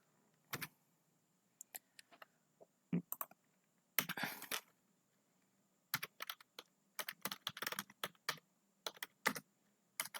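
Typing on a computer keyboard while writing a Python program, quiet close clicking in irregular bursts and short runs of keystrokes separated by pauses.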